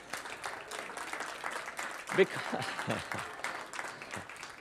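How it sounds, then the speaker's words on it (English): An audience at a talk or seminar claps for a woman called up front, a patter of moderate applause with a voice speaking over it and a sharp knock partway through. "passionate round of applause for Alison"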